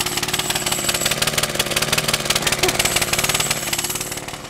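A lawnmower engine fitted with a homemade vaporizer fuel setup runs close by with a fast, steady, rough chugging pulse, and a voice talks over it.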